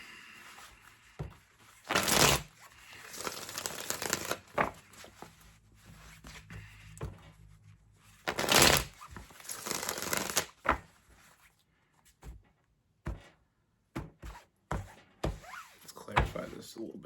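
Tarot cards shuffled and drawn during a love reading, giving bursts of papery riffling and flicking with soft taps and thumps between them, close and clear.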